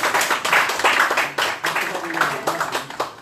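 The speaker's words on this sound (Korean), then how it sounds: "박수 한번 크게." Audience clapping loudly at a political party meeting, choppy bursts of hand claps with a voice talking over them.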